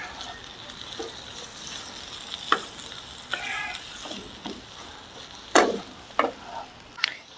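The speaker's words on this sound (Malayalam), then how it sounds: "ഇനി നമ്മൾ വേവിച്ച് വെച്ചിട്ടുള്ള ലിവർ ഇതിലേക്ക് ചേർത്ത് കൊടുക്കാം." Boiled beef liver is stirred into a sizzling curry masala in a pan, with a soft steady frying hiss and several sharp spoon scrapes and clinks that come faster near the end.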